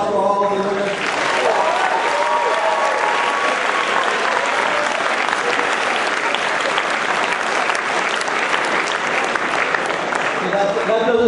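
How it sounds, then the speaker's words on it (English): A crowd at a Tufts athletics award ceremony applauds the winners with loud, sustained clapping. Scattered voices and cheers rise within it, and the applause stays full and even for about eleven seconds. "How about one last round of applause for all of the winners?"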